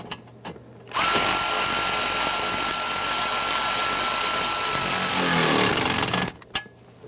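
A power tool snugs down two bolts while installing a panel on a 1994-2004 Ford Mustang, one loud, continuous high-pitched whir running about five seconds close by, with a few clicks before and after.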